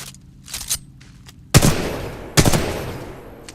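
Video game gunfire at a shooting range: two loud, sharp shots each trailing off into a long echoing decay, preceded by a few softer clicks and mechanical handling sounds.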